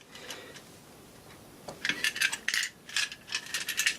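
A teardown electricity meter from Schlumberger, ABB or Enermet is shaken, giving faint scattered clicks followed by a burst of bright, irregular metallic rattles with loose parts knocking inside.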